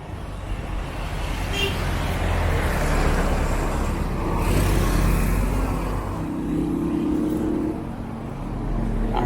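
Evening street traffic in Barrio Barretto, Philippines, with cars and other vehicles rumbling past close by in a continuous loud wash of engine and road noise that swells and fades.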